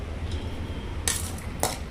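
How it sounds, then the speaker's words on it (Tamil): Two quick bright clatters as cooled okra recipe ingredients are dropped into a metal mixer jar, over a low steady hum, with a short pause between them. "இதெல்லாம் மிக்ஸி ஜாரில் போட்டுடலாம்."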